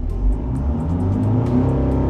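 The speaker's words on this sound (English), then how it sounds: "We'll rev the car slightly" Inside a Citroen C5 Aircross diesel SUV, the engine is revved slightly, a smooth low hum that swells a little above idle and holds steady, muffled and without talk.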